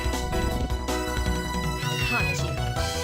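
A cat meows a few times in the video game Castlevania: Order of Ecclesia, small cries rising over layered game music and effects.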